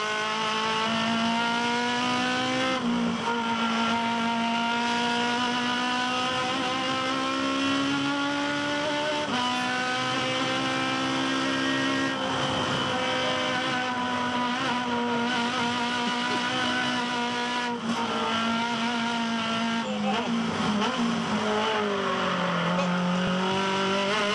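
Onboard engine sound from an Aussie Racing Cars race car at Winton, a loud, continuous high-revving drone with pitch rising and dropping through gear changes.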